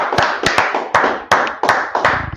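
Clapping during a live online class, a handful of hands clapping in loose, uneven bursts with sharp, reverberant individual claps and short gaps between them, close and fairly loud.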